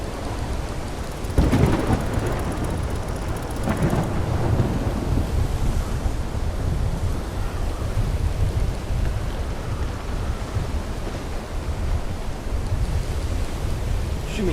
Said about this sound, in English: What do you mean get ready for the storm?